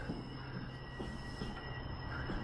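A train rolls by slowly in the distance, a faint low rumble with soft rhythmic wheel thumps and a thin steady whine.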